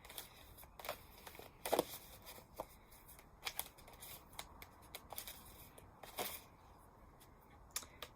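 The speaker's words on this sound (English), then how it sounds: "Right, Maya, let's have a look what card's going to come out while I'm shuffling." Tarot cards being shuffled by hand, a quiet run of irregular papery flicks and snaps at close range, with no talking.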